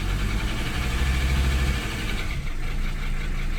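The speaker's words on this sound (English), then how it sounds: "Give it a little bit of throttle here." A 1980s-era Mercedes 300SD diesel engine given some throttle, a loud, close, steady low rumble with a slight rise and fall in pitch as it revs.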